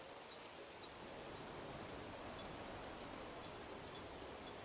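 Steady rain falls in the Animal Crossing: New Horizons video game, a faint, even patter of drops that continues alone without any voices.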